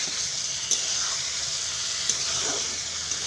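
Red spice paste fries in a pan with a steady close sizzle and hiss, broken by a few faint scraping stirs, and no voices are heard.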